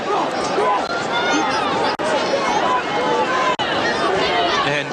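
Crowd at a 1983 National Soccer League match between Preston Makedonia and South Melbourne Hellas, a dense roar of many voices with shouting and babble rising and falling steadily, close and loud, with no single voice standing out.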